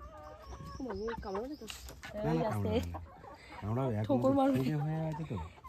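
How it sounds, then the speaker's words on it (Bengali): Chickens cluck at a poultry farm's chicken house, with short bird calls mixed in under near, steady conversation from people talking throughout. "এটা পুরো মুরগির হেভেন"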